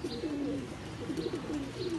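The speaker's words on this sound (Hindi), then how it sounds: "माशाल्लाह कबूतर ही कबूतर आज उड़ा दिए हमने" Pigeons at a home loft coo in soft, low, rolling calls, close by and repeating over a constant background hiss.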